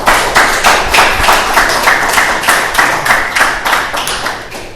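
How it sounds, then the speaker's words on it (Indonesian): Guests at a marriage registration ceremony clapping together in a close, loud burst of applause with a distinct rhythmic beat, several pulses per second, no speech over it. "Beri tepukan."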